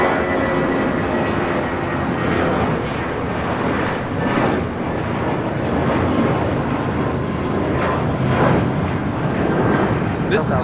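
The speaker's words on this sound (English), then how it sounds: "This is United Airlines 1395 taking off to Austin on an A320." A United Airlines Airbus A320 departs LAX for Austin, its engines giving a loud, continuous broadband roar that stays even across the whole stretch, with speech faintly mixed beneath.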